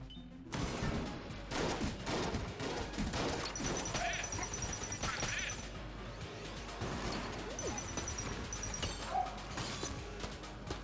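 Shadow Bullet's backup gun fires in the game Enter the Gungeon: dense, rapid gunfire bursts with crashing impacts and clattering mechanical effects, continuous and loud throughout.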